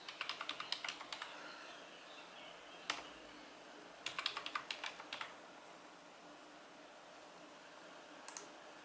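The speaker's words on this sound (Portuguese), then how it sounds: "Vamos digitar de novo." Password typed on a computer keyboard during a Mac OS X Mountain Lion install, quick bursts of close, quiet key clicks with pauses between.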